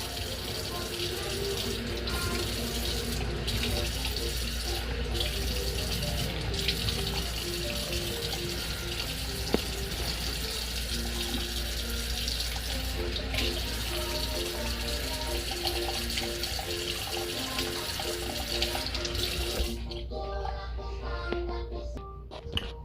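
Steady water running from a tap while a kitten is bathed, a continuous close hiss that holds throughout with faint voices and music-like tones underneath, cutting out near the end.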